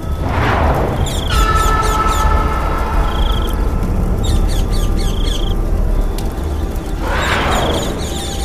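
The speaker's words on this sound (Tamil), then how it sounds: "அந்த பறவைகளோட சத்தம் காடு முழுக்க பயங்கரமா எதிரொலிச்சுக்கிட்டு இருந்துச்சு" Squawking birds in a forest, harsh crow-like caws and calls sounding loud and close, with rapid repeated chatter and cries rising and falling over a dense, eerie ambient bed for a horror story.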